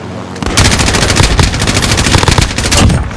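Sustained automatic gunfire from a Call of Duty: Modern Warfare mission, loud rapid bursts of rounds rattling for about three seconds with a brief pause partway through.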